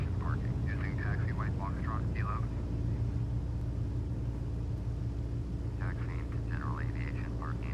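An airliner in Flight Simulator X taxis to the gates, a steady low engine rumble and whine running throughout while someone talks over it at the start and end.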